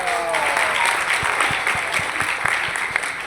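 Loud, sustained applause fills a gala dinner hall as Sameer enters, a thick wash of many hands clapping with a few sharp low thumps punctuating it throughout.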